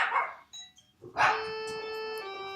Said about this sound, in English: And somebody rang the doorbell.